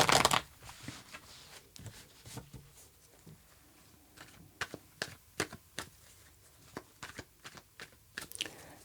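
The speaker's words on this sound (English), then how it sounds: "Let's pull an extra card for the Two of Pentacles." Tarot cards being shuffled and pulled, with soft papery riffles and a series of crisp flicks and taps spaced irregularly, close and quiet, with no speech.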